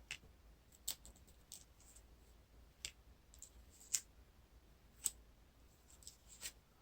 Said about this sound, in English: Deal out shadow cards.